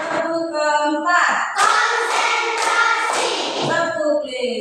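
A classroom group clapping on cue produces a few sharp, loud bursts of clapping hands, clustered in the middle, set against a continuous harmonic voice or music bed.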